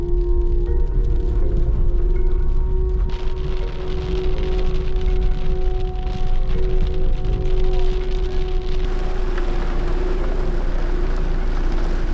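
Rain falls steadily in the Kgalagadi, between Mata Mata and Twee Rivieren, a dense continuous hiss over a low, steady droning hum that runs throughout.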